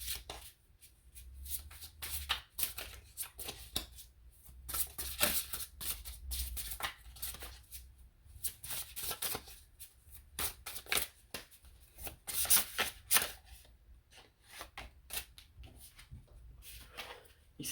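Oracle cards are shuffled by hand for a tarot reading, giving soft, irregular riffling and sliding bursts across a quiet background, close and fairly faint.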